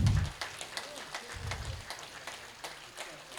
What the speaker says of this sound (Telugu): మహాకరుణ యాత్రకు గట్టిగా క్లాప్స్ కొడదాం.